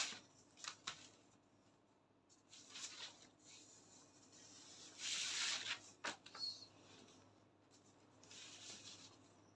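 Scissors cut fabric close by, with a few scattered snips and longer sliding cuts separated by quiet gaps.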